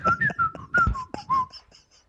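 Someone whistles a melody in a clear, bright tone, a run of short pitched phrases with small slides between notes, close and alone with no talking over it.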